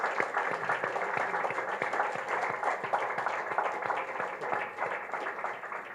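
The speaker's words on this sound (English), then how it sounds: "I think they deserve a second round of applause." Steady audience applause for speakers at a Nigerian public forum, many hands clapping densely and evenly for six seconds at moderate level, with no voices over it.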